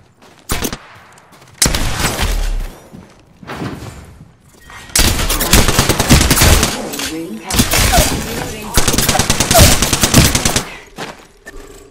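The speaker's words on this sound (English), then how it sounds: "Opening fire." Loud close gunfire in Apex Legends, bursts of rapid automatic shots broken by short pauses, with clatter and impacts between the volleys.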